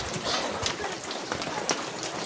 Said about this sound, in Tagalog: Ang ulan, lakas.